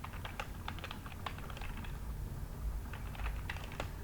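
Soft, quick clicks of typing on a computer keyboard come in irregular clusters at low volume, with a pause in the middle.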